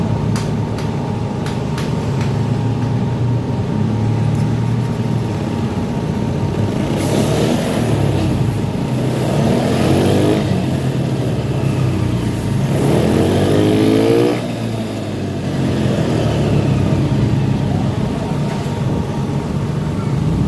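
A Honda Beat FI scooter with a loss-of-power fault and high fuel pump pressure idles nearby with a steady low engine rumble, rising in a few brief swells as it runs.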